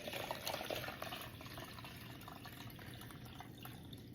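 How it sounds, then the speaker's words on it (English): Fire cider is poured from a big jar through a strainer, a steady liquid splash and trickle that is louder in the first second and then settles to an even flow, close by with no talking. "we're just gonna kind of pour it all in here and strain it out"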